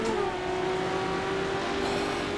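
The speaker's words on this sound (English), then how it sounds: "The sound of this V8 just chiming away behind me" A V8 race car engine in a VR sim racing game holds a steady, loud drone throughout, one continuous tone with no breaks and no talking.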